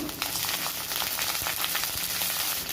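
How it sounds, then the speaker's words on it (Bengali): Whole garam masala, cumin seeds and bay leaf tempering in hot oil, in the same pan where eggs were just fried, give a steady, dense sizzle and crackle with no talk. "এখন দিয়ে দেব গোটা গরম মশলা ফোড়নে গোটা জিরা তেজপাতা"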